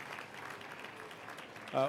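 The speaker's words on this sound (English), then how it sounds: "let's give a round of applause for all of our elected officials, federal, state, and local, who have been behind us" Audience applause at an outdoor ceremony marking the start of Central Subway tunnelling, honouring elected officials; steady moderate clapping and crowd noise, ending in a brief louder burst with a voiced cheer.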